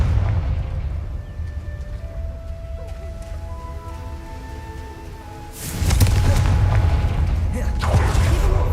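A Confringo fire spell in Hogwarts Legacy bursts with a heavy, booming explosion that swells suddenly and rumbles on over a steady background of game ambience and music.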